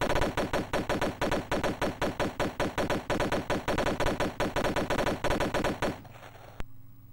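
Rapid bursts of automatic gunfire from a gun in the Amiga video game Clive Barker's Nightbreed: The Interactive Movie, loud and rhythmic for about six seconds before stopping, leaving quieter background with a single sharp click.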